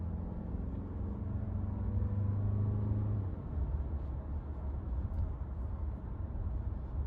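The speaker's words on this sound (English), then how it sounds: "All right, let's hear that difference in the acceleration." Interior drone of a Honda CR-V or Mazda CX-5 SUV accelerating hard: a steady engine tone climbing in pitch for about three seconds, then broad road rumble after a gear change, fairly faint.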